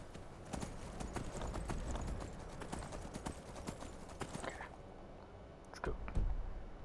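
Rapid horse hooves clip-clop at a gallop against a gritty background in the video game Skyrim, then slow and fade near the end.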